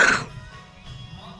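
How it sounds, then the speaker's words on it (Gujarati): A single short, close cough bursts out at the very start, then gives way to a quiet low background hum. "ઉધરસ થઈ"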